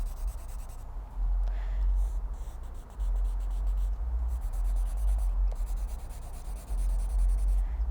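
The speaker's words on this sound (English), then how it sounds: "I'm going to draw trees by drawing kind of pointy triangles like this. And I'm going to make it a little bit jaggedy on the sides and color them in." Pointy, jagged triangle trees drawn and colored in on paper; steady, close scribbling strokes that run almost continuously with brief pauses, over a low background hum and no talking.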